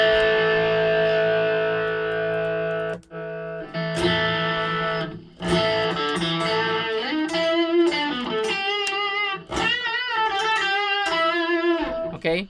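An electric guitar played through a Tube Screamer overdrive pedal in the Ampire amp simulator gives a gritty, distorted tone: sustained chords, brief cutoffs, then bending, wavering single notes and sharp attacks, loud and alone.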